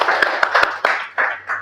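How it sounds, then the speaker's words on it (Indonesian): Classmates clap in a lecture hall, a brief burst of dense, crackling applause with a few sharper individual claps standing out, filling the space without any talking over it. "Kita beri aplaus dulu untuk teman-temannya."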